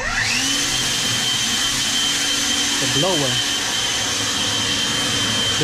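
Battery-powered leaf blower running steadily, a loud continuous whining roar with a high tonal whistle, briefly wavering in pitch midway, with a voice faintly underneath.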